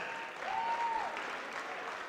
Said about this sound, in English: Let's have one more round of applause for your 2025 Bruin seniors.